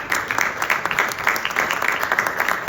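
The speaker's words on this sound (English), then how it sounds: "Congressman, give him a round of applause." A small crowd applauds at a Columbus Day celebration breakfast, with brisk, uneven clapping close by for a few seconds.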